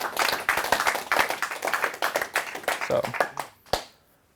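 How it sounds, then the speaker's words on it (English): A men's convention audience claps in a burst of loud, dense applause that thins out into scattered individual claps and fades, with a final lone clap near the end. "give you guys yourselves a round of applause for making it out here"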